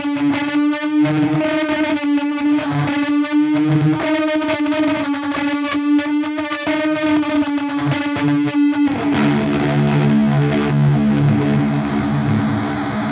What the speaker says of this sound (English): Glitch lets you chop, reverse, and re-sequence your playing in endlessly creative ways.